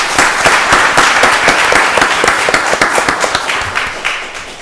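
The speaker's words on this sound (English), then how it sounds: "Y'all give them both a round of applause." A room full of people at a county board of commissioners meeting breaks into a burst of applause, dense overlapping claps that swell quickly and then gradually taper off.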